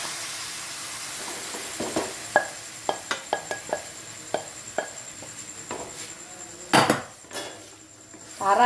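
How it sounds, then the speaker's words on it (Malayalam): Duck meat tipped into a pan for a Kerala-style duck roast and stirred, with scattered metallic scrapes and clinks of a spoon against the pan, a louder clatter midway and a soft sizzle underneath. "ഇതിലേക്ക് ഞാൻ ഇറച്ചി ഇട്ട് കൊടുക്കാൻ പോവുകയാണ്"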